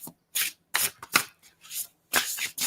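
Tarot cards being shuffled in quick, crisp riffling bursts, about six separate shuffles with short pauses between them, close and clear with no talking.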